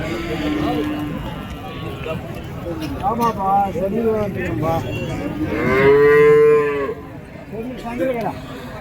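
Cattle and young calves at a busy country cattle market moo and low repeatedly, several calls close and loud, one long drawn-out bellow, with people talking in the background throughout.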